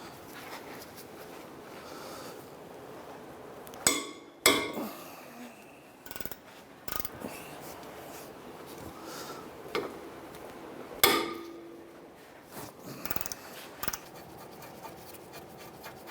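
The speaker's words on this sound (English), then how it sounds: "On the back of the caliper bracket, you'll see 2 bolts. They are 17mm bolts. I'll go ahead and remove those now." Two 17mm caliper bracket bolts being removed from the front brakes of a 2007-2013 Mitsubishi Outlander, quiet shop ambience broken by several sharp metallic clanks and tool knocks, no talking.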